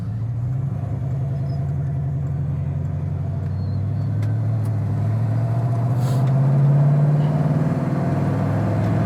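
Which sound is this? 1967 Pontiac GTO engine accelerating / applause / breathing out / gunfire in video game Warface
1967 Pontiac GTO engine accelerating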